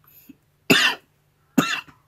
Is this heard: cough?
yes